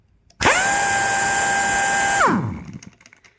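A pneumatic impact wrench fed through a 3/8 inch air hose runs steadily at full speed for about two seconds, a loud close whine that winds down sharply once the trigger is released.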